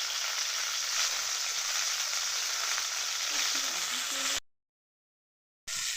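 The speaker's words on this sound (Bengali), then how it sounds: "আর একটা পিঠ এরকম লাল লাল করে ভেজে নেবো" Chicken chops fry in hot oil, a steady loud sizzle running unbroken for about four seconds, then cutting to a short silence before the frying resumes briefly.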